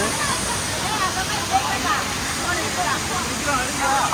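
Hogenakkal waterfall pours in a constant, dense rush of water, loud and unbroken throughout, with a faint crowd murmur blended into the roar.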